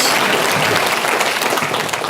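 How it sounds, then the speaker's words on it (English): Conference audience applauding journalist Robert Fleischer as he is introduced in Holmfirth, UK, a dense, loud, continuous burst of many hands clapping throughout. "a round of applause for Robert Fleischer"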